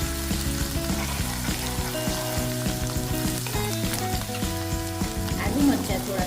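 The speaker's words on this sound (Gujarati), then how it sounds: "મરચાં થોડા સતળાઈ જાય એટલે આપણે એની અંદર શીંગનો પાવડર એડ કરીશું।" Ginger-chili paste for sabudana khichdi sizzles in hot oil in a pan, a dense, close, continuous crackle with occasional stirring scrapes and a faint tonal hum underneath.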